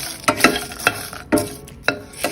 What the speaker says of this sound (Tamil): நீங்கள் பச்சை கறிவேப்பிலை போடுறதுனால அதை நல்லா ஃப்ரை பண்ணுங்கள்